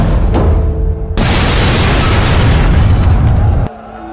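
A grenade explosion in a wartime dramatization of Indonesian independence fighters: a loud, sustained roaring blast that fills several seconds and then cuts away to a quieter background.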